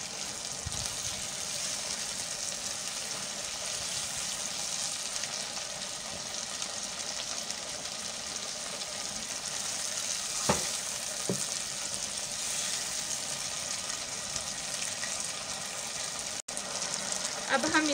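Potatoes fry in a pan for aloo bhujia, a steady broadband sizzle running throughout, with a couple of brief metal spoon scrapes and clinks as the pieces are stirred.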